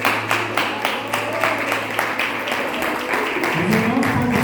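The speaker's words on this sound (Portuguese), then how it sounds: "eu quero te louvar com uma salva de palmas" A church congregation gives a round of applause during worship, with steady, rhythmic clapping from many hands, moderately loud and sustained, joined near the end by a low hum and faint voices.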